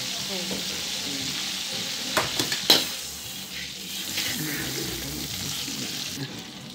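Seafood sautéing in butter in a pan, a steady bright sizzle with a short cluster of sharp utensil clinks near the middle, then the frying hiss carries on evenly, close by.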